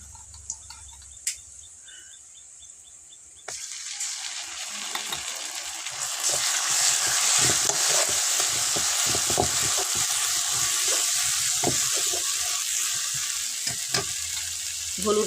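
Onions frying in a pan for a silver carp curry, quiet at first with a few light knocks, then a sudden sizzle that swells louder as the onions are stirred, scraping clatter running under the steady hiss.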